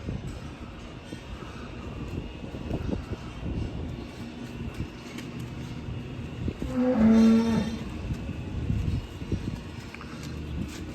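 A heifer gives one loud, drawn-out moo in a dairy barn, with other cattle shuffling and a steady mechanical drone in the background.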